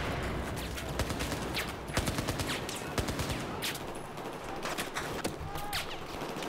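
Automatic gunfire in Battlefield 4 during a Shanghai mission, rapid sharp shots in scattered bursts, moderately distant, over a steady din of battle noise.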